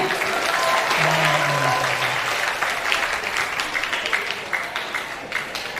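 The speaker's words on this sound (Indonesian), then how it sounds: "Berikan aplausnya, berikan tepuk tangannya." An audience claps steadily and warmly throughout, with a voice calling out briefly over the applause near the start.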